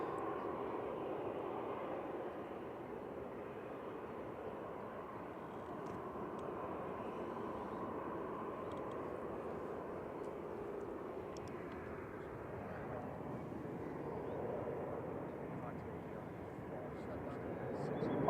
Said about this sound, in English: Ryanair 1144 from Berlin Brandenburg, 737-800 EIENK